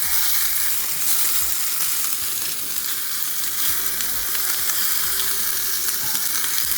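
Browning sauce hits oxtails searing in a hot pot, producing a dense, close sizzle that stays loud and even throughout, with faint stirring scrapes underneath.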